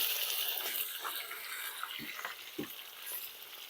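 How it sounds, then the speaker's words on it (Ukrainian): Meat tossed into a preheated kazan over an open fire, with pork fat already fried in it, gives a steady broadband sizzle and crackle, broken by a couple of short thuds as pieces land in the pot. "наш казан прогрітий салко піджарилося і починаємо сюди закидувати наше м'ясо"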